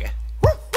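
An anime dog gives two short barks in quick succession, close and loud, following a stretch of low steady background hum.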